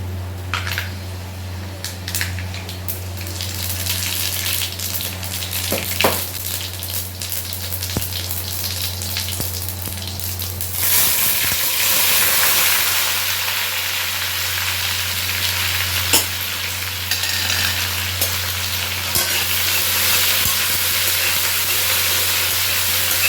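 Fenugreek seeds hit hot oil in a pan while okra sabzi is being cooked, giving a steady close sizzle and frying hiss that swells louder and fuller partway through, with faint stirring under a low constant hum.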